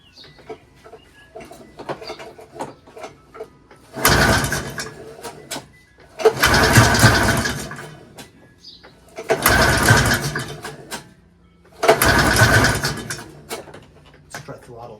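A Bombardier Ski-Doo Formula MX snowmobile engine is pull-started four times in loud, regular bursts of cranking and sputtering, each lasting about two seconds and separated by short pauses, with faint talk in between.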